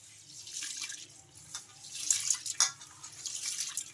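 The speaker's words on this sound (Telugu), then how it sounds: "ఇవన్నీ బాగా మిక్స్ చేసుకొని ఇలా ఒక రెండు సార్లు శుభ్రంగా వాష్ చేసుకోవాలి" Soft splashing and swishing of water in a vessel as lentils and rice are rinsed, with occasional sharper sloshes and faint drips.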